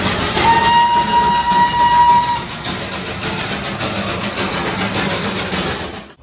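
Darjeeling Himalayan Railway narrow gauge train near Darjeeling station, a loud steady rumble of the engine and wheels with a brief high horn or whistle early on, fading slightly toward the end.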